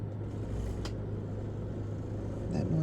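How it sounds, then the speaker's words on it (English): A small machine that shakes nail polish bottles runs nearby, giving a steady low mechanical hum and rumble with a brief clatter midway, continuous throughout. "That noise you hear in the background is my little machine I use to shake the polishes."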